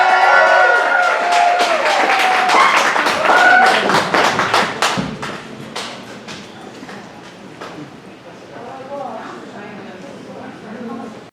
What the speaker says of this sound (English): Keep the applause going for